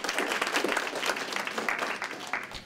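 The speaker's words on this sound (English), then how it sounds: "We've already done the round of applause and such, but let's go ahead and do it again." An audience claps in a sustained round of applause at a cooking competition event, dense and steady for a few seconds with no talk over it.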